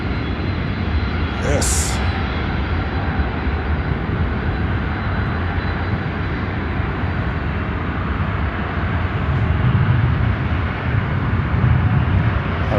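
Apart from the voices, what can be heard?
airplane noise at O'Hare airport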